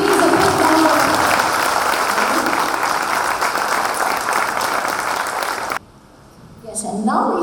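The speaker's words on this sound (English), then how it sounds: "a big round of applause" Sustained applause from families at a children's graduation day, loud and dense for about six seconds, then cutting off abruptly before faint speech follows.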